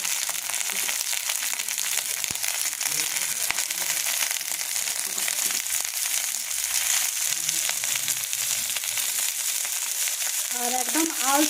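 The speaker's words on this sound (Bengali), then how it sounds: "এইরকম ধিমি আঁচে আলতো করে এইভাবে ভাজতে হবে।" Prawn paturi wrapped in gourd leaves frying gently in oil over low heat, a steady crackling sizzle with faint crunchy rustles, close and even throughout, no speech.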